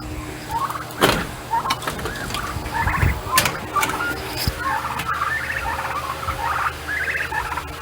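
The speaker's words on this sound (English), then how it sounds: "So here's our turkeys." Farm-raised young turkeys in a pen calling with repeated warbling gobbles and chirps at moderate distance, over a steady fan hum and scattered knocks.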